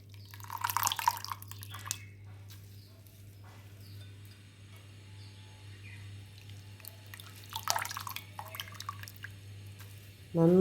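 Water dripping and trickling from a washed, squeezed banana flower, with scattered drips and short splashes over a steady low hum, ending in a louder burst.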